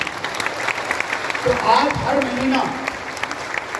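An audience claps in a memorial hall in Patna during a company event, a brief spread of applause heard under someone speaking into a microphone.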